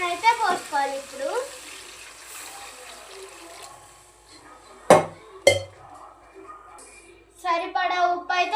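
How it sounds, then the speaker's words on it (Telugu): Coconut milk poured into a cooking pot gives a soft liquid trickle and splash at moderate distance, broken by a couple of sharp clinks from utensils, and a voice speaks at the start and end. "కొబ్బరి పాలను అయితే పోసుకోవాలి."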